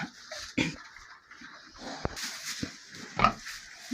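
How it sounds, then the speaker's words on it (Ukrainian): Pigs grunt and snuffle close by on straw in a farm pen, with a few louder squeals and rustling sounds as they move about. "Ось свинтуси вже понаїдалися."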